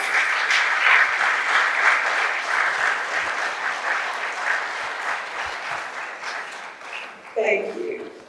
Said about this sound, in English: Please let us honor the late A.M. Agoro with an outstanding round of applause